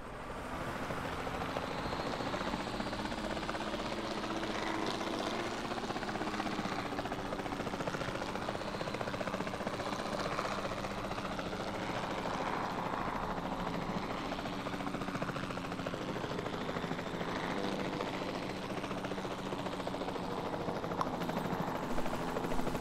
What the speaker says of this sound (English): I'm going to bring the chopper on over here.